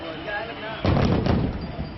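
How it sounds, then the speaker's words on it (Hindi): Fireworks burst over Kashi after the evening aarti at Dashashwamedh Ghat on the Ganges. A sudden loud bang is followed by a crackling rumble and a second pop, heard over a background of voices. "दशाश्वमेध घाट पर आरती के बाद काशी का आसमान भी आतिशबाजी से नहा गया।"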